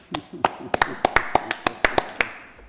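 A lone person at a county board meeting claps about a dozen sharp, evenly spaced times, close and distinct, fading out after a couple of seconds.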